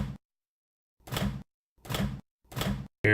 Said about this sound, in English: So this is opening the microwave door.